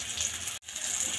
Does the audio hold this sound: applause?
no